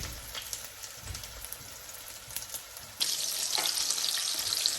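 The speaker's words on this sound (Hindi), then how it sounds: "अब मैं इनको बस इस तरीके से डीप फ्राई करती जाऊँगी सारी पैटीज़ को" Chapli kebab patties slide into hot oil and deep fry, a moderate crackling sizzle that jumps sharply louder and brighter partway through as another patty goes in, then holds as a dense, rain-like bubbling.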